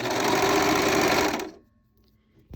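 A sewing machine runs steadily down a fabric binding strap, its loud, continuous motor hum lasting about a second and a half before stopping abruptly, leaving near silence.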